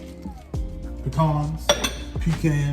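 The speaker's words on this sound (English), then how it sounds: "Add our pecans" Pecans tipped into a pan of bananas and stirred, giving a few clinks and knocks of utensil against metal, close by, with a voice talking alongside.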